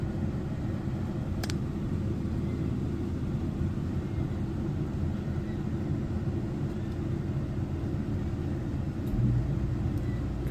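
An RV rooftop air conditioner running on high cool mode from about three feet away, producing a steady broadband rumble and fan whoosh, continuous and even throughout.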